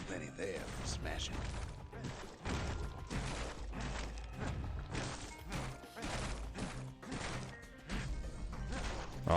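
Repeated smashing and thwacking of breakable objects in the action game Bastion, dense and busy with crashes landing every second or so over a loud, steady game soundtrack.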